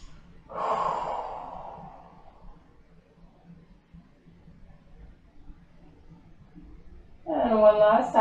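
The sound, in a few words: deep breathing during yoga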